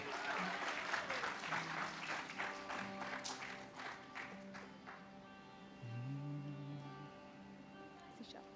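Audience at a musical baithak session applauds in a loud clapping burst that fades over several seconds while sustained instrumental tones and a voice carry on beneath.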